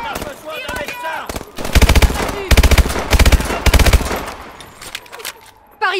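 Bursts of automatic gunfire from the video game Call of Duty Advanced Warfare, loud rapid volleys in four clusters under shouted game dialogue and battlefield noise.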